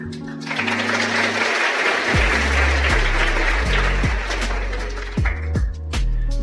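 Audience applause during a motivational talk, dense and steady, mixed with low hums and pulsing bass tones that swell and cut in stages.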